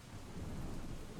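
A Rainy Mood ambience track plays a dense, steady rain hiss with low rumbling thunder underneath, a continuous wash at moderate, even loudness.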